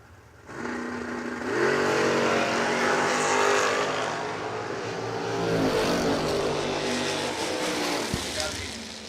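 At a drag strip, race cars including a Mustang roar off the line, a loud sustained engine blast that swells and stays heavy for several seconds while an announcer talks over it.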